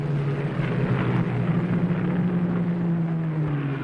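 Steady, loud drone of a Kittyhawk fighter aircraft peeling off to come in at low level over the Vogelkop Peninsula, a continuous engine hum with no breaks.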